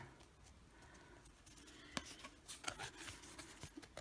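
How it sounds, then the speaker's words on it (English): Quiet, close scissors snips and rasping scrapes on cardboard, a few sharp cuts irregularly spaced over soft rustling. "bend the cardboard, make a cut, and then cut around the eye"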